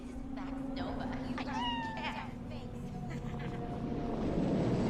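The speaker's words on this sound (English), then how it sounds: "Oh yeah, I fucking love sphinxes. They're just little bald cats." A hairless sphynx cat in the video game Cyberpunk 2077 gives several close, drawn-out meows over a low ambient hum and background noise.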